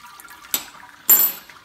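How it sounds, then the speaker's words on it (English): Water drains from the lifted malt pipe of a Robobrew all-grain brewing system, two short splashing gushes, the second louder and longer, with quiet dripping between them. "I've just pulled the malt pipe out. That water's draining out."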